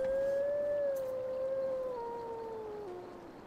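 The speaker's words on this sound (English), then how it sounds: "It's a wolf." A lone wolf in the game Tengami gives a long clear howl that slowly drops in pitch and fades, with a soft ambient background.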